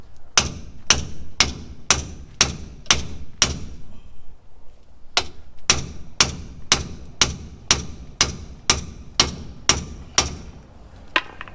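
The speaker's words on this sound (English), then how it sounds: "I've upgraded the hammer because yours was minuscule" Steady hammer blows striking in an even rhythm, a short pause, then another run of regular sharp knocks, close by.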